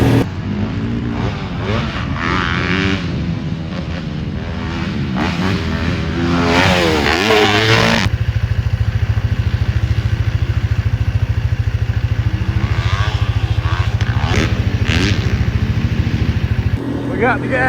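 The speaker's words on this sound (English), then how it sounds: "Dad's dirt bike ran out of gas, so now we're 3 deep on this" A dirt bike carrying three riders motors along a trail, its engine loud and close with throttle swells and clatter, while voices talk and shout over it.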